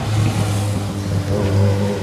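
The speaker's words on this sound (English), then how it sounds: "That is not my bike, but I hear it going by." A motorbike passes nearby, its engine a loud steady drone that swells briefly, heard without any talking.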